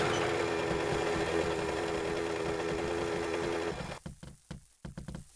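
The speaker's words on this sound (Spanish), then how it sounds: "Venga, vamos a coger la moto." A motorcycle engine in 7 Days to Die idles with a steady buzzing drone for several seconds, then cuts into choppy, sputtering bursts as it revs and stutters near the end; no voices are heard.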